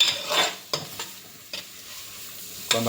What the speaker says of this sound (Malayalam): എന്നിട്ട് മഞ്ഞൾപ്പൊടി ഇട്ട് നന്നായി ഇളക്കാം.